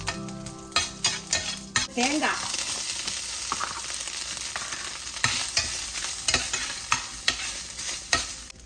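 Mustard seeds, dried red chillies and curry leaves crackle and sizzle in hot oil while a spoon stirs the pan, with sharp pops and scraping clinks over a steady hiss; no voices.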